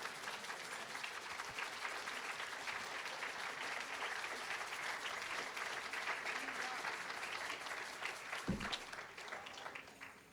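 Church congregation applauding during a Spanish-language service, steady sustained clapping from many hands filling the room at moderate distance, with a thump near the end.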